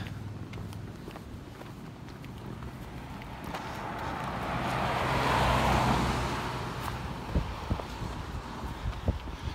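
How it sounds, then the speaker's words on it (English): Road traffic passing at an Appalachian Trail road crossing, a vehicle swelling louder as it sweeps by mid-clip then fading, over steady outdoor ambience with footsteps nearby. "We'll get ran over by all the traffic."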